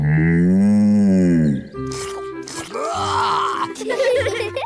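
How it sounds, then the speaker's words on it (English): A cartoon cow gives a long, loud, close moo that rises and falls, followed by grunting and groaning sounds. "Bessie's a cow."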